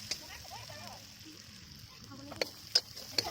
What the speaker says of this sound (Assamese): এয়া হালধি দিছোঁ এতিয়া।